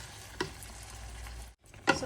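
Canned beans in sauce stirred in a pan with pork belly, soft sizzling under scraping spoon strokes, a brief pause, then another scrape.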